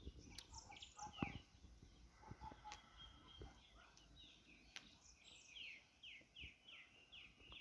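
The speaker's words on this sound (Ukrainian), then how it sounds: "Послухайте пташок." Birds chirp and trill outdoors in a village at a weekend barbecue, with a rooster and clucking fowl mixed in; faint, scattered calls against quiet background hiss, and no talk.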